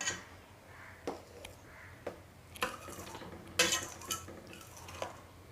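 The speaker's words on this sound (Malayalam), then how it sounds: "ഇത് നല്ലപോലെ ഒന്ന് മിക്സ് ചെയ്യാം" Lotus seed (makhana) payasam being mixed in a pot, with a series of close, sharp scrapes and clinks of a spoon against metal at irregular intervals over a quiet background.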